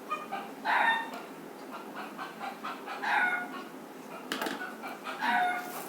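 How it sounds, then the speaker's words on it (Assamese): A rooster crows three times in short, separated calls at a moderate distance over a faint, steady outdoor background. "কুকুৰাই মাতিছে"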